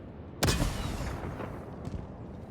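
A rocket launcher in Helldivers fires with one sharp loud blast, followed by a rumbling, crackling impact tail and a fainter second thud.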